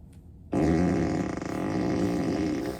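Tesla Model Y Performance emissions mode playing a loud, close synthetic fart effect, a sustained buzzing, rippling blast lasting over two seconds after a brief quiet start.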